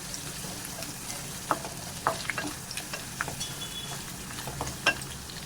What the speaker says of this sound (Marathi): फोडणी त्याची बसायला पाहिजे लसूण जी आहे ना चांगली लाल व्हायला पाहिजे